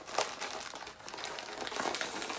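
Close, continuous crinkling and rustling of packaging material as a parcel holding a Gucci durag is handled and torn open, with no talking.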